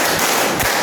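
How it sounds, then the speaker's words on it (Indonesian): A couple of quick hand claps from a group of adults in a classroom clapping game, short sharp slaps in a roomy space, fairly loud with little else around them. "tepuk 4"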